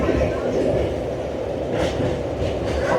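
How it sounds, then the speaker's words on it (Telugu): The Chennai Egmore Express rumbles steadily into Sattur railway station, with a continuous low roar and faint rattling of wheels on track, loud and close throughout. "మన చెన్నై ఎగ్మోర్ ఎక్స్ప్రెస్ వచ్చేసి సత్తూర్ రైల్వే స్టేషన్లోకి ఎంటర్ అవుతుంది"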